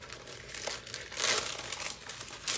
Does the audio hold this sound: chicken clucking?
no